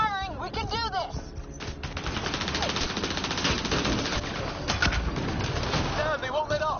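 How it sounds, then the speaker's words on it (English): Sustained automatic gunfire rattles close and loud in Mass Effect Andromeda, a continuous dense barrage of rapid shots with bursts of shouted voices over the combat. "Just keep firing, we can do this!"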